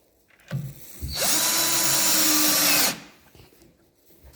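A power drill drives screws into the legs of a two-door, two-drawer wardrobe during assembly, a steady loud whir lasting nearly two seconds, framed by short clicks and handling noise before and after.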